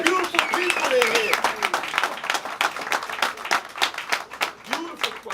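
An audience at a poetry show's sixth anniversary claps and applauds in a dense, close burst, while a voice talks through the clapping, which thins into scattered claps.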